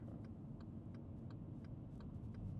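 A car's turn signal indicator ticks at a steady rhythm while approaching a roundabout, soft clicks sitting over a loud, constant low road and engine rumble inside the cabin.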